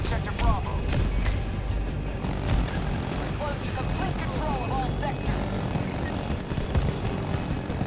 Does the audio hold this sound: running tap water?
no